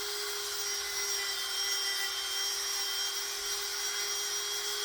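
Dremel rotary tool carving a sea turtle fishing lure, a steady high-pitched whine held continuously with a gritty grinding hiss, loud and close with no talk.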